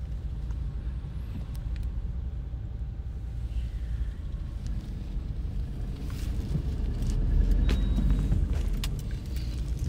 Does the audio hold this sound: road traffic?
yes